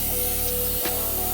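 A hair dryer blows on hair nearby, a steady loud whooshing hiss with a brief dip in the middle as the airflow shifts.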